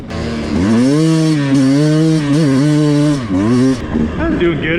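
A 2020 Beta 200 RR two-stroke dirt bike ridden on a trail, its engine buzzing loud and close, rising and falling as the rider works through second and third gear, blipping the throttle near the end.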